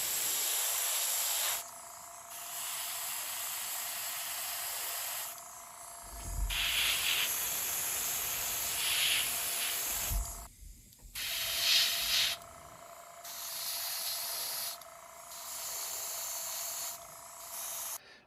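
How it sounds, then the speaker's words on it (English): Base coat paint sprayed onto a B-Wing fighter model: repeated bursts of airbrush or spray-can hiss, each lasting a few seconds with short pauses between, close and steady with faint handling thumps. "before I spray my base coat over it"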